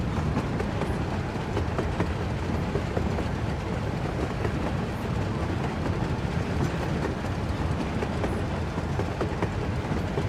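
A train runs along an oceanfront railway in the city-building game Workers and Resources, a continuous rumbling roll with faint rhythmic clicks of wheels on track, steady and moderately loud with no voices.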